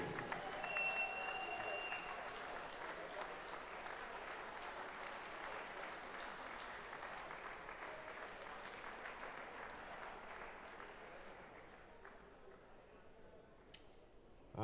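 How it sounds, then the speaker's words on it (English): Crowd applause in a darts tournament hall for a youth finalist, steady clapping heard from some distance that gradually fades over about fourteen seconds, with a faint whistle early on. "please keep the applause going for your British Classic Youth finalist"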